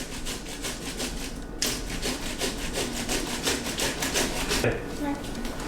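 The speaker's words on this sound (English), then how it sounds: "we're gonna grate these tomatoes right into the bowl" Soft tomatoes are rubbed over a box grater into a bowl, making fast, rhythmic rasping strokes that repeat steadily, close and fairly loud, with one brief pause in between.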